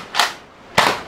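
A toy gun fires soft bullets in two sharp, close pops with a short pause between them.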